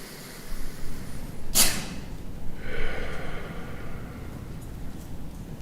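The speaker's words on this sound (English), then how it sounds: "We breathe in as we listen. We breathe out as we connect." A loud, sharp breath drawn in, followed a moment later by a slower, softer exhale, close and alone over a faint background hum.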